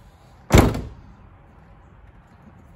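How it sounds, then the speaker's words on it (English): Rear door of a Toyota Land Cruiser Prado (LC120/LC150) shutting once with a single solid thunk close by, then quiet. "There's the door closing."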